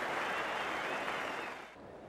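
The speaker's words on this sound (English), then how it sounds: "it's a great round of applause from the large crowd here at the Sydney Cricket Ground." A large crowd at the Sydney Cricket Ground applauds during a one-day international cricket match, a dense, steady wash of clapping that tapers off near the end.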